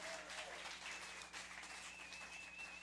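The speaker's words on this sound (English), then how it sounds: "Give them a big round of applause" Audience applause at a live Radio Bristol Farm and Fun Time show, steady broadband clapping sustained for about three seconds without a pause, moderately distant and filling the room.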